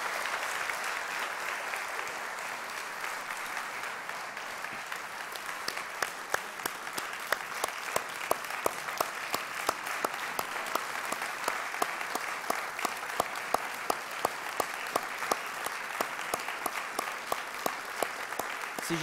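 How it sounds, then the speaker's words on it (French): A church congregation applauds during a service, sustained clapping that grows into a rhythmic, unison beat partway through and holds steady to the end. "Est-ce que vous voulez bien les applaudir?"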